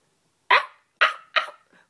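A man imitates a dog barking with his voice, three sharp, loud barks at an even pace followed by a fainter, shorter fourth, close to the microphone against silence.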